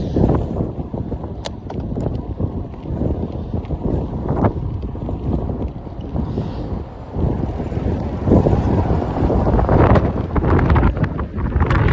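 Wind rushes through big spruce trees outdoors in a continuous rough roar that swells louder toward the end, with wind buffeting the microphone and no talking.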